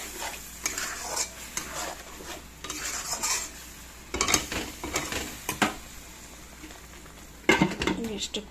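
Spices and chicken are sautéed in a pan over low gas, with intermittent bursts of spatula scraping and clattering against the pan over a steady background sizzle.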